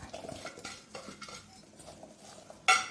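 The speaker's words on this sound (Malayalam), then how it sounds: "ഒരു പാത്രം എടുക്കുക അതിലേക്ക് നമുക്ക് ഈ ഉരുളൻകിഴങ്ങ് ഇട്ട് ഈ വെണ്ടയ്ക്ക് ഇട്ട് കൊടുക്കാം" Chopped potatoes and okra are dropped into a bowl while preparing a potato okra fry, giving soft clattering and scraping of utensils with a sharper clink near the end, with no talking.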